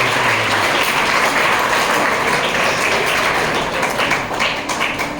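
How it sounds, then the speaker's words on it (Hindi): Loud, dense applause from an audience at a school farewell event, thanking the sisters, sustained and close with a brief tonal hum at the start. "तो आप हमारी बहनों के लिए, हमारी सिस्टर्स के लिए जोरदार तालियां बजाइए।"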